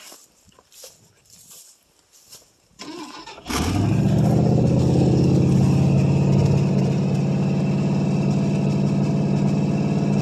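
A 1968 Ford LTD with a 390 FE V8 cold-starts after sitting: a few quiet scrapes and a brief crank, then the engine catches with a loud burst and settles into a steady, rough idle close by.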